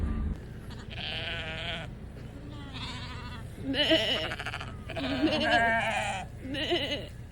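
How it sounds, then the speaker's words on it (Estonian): Several sheep bleat nearby in a series of wavering calls, some overlapping, over faint outdoor background noise. "Ilusad lambakesed, noh."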